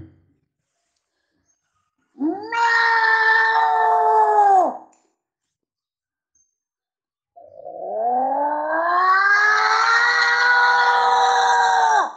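On a stage at a Diwali cultural festival, a performer imitates two cats with his voice: a drawn-out meow, a pause, then a longer rising caterwaul, both loud and clear against silence.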